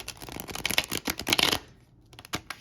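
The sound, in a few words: shuffling a deck of cards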